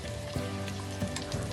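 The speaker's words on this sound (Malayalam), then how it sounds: "ഇത് ഓരോന്നായിട്ടിട്ട് വറുത്തെടുക്കാം" Scotch eggs deep frying one at a time in oil over a medium-low flame give a steady, close crackling sizzle with faint bubbling pops throughout.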